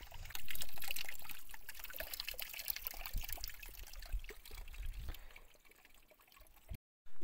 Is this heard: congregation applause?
no